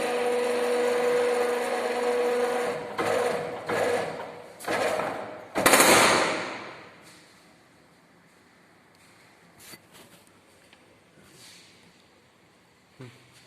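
The cross head of a hydraulic compression testing machine is lowered onto a specimen. Loud, steady mechanical whirring comes in several bursts separated by short pauses, then drops to a faint background hum with occasional soft knocks.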